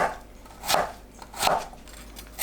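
Three crisp knife chops julienning radish on a cutting board, evenly spaced about three-quarters of a second apart, close and clear with no talking.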